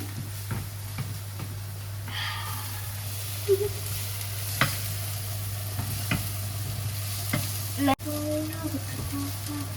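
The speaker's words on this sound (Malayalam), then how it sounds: "നമ്മുടെ സവാള ഇവിടെ ഏകദേശം ഒന്ന് വഴന്ന് വന്നിട്ടുണ്ട് കേട്ടോ" Onions being stirred and sautéed in a pan, a continuous low sizzle with occasional scraping ticks of the spoon, no voices.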